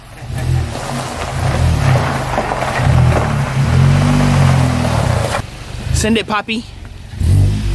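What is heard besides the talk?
VW MK7.5 GTI engine revving with cut AWE exhaust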